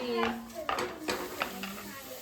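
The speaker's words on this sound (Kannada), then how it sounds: "ಟೊಮೆಟೊ ಹಣ್ಣನ್ನು ಹಾಕ್ಕೊಂಡಿದ್ದೀನಿ, ಸ್ವಲ್ಪ ಉಪ್ಪನ್ನು ಹಾಕಿ ಇಲ್ಲಿ ನಾನು ಫ್ರೈ ಮಾಡ್ಕೊತಾ ಇದ್ದೀನಿ" Tomatoes and carrots with salt frying in a pan, giving a soft sizzle under intermittent stirring and clinks of a utensil against the pan, with a voice speaking faintly in the background.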